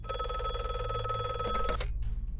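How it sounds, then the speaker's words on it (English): An electronic telephone bell in a video game rings loudly and continuously, then cuts off abruptly, leaving brief quiet. "The phone is ringing."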